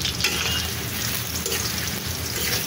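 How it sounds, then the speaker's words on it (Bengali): Onions fry in oil for birista, a steady loud close sizzle with soft bubbling and no speech. "এইদিকে পেঁয়াজ বেরেস্তা হচ্ছে"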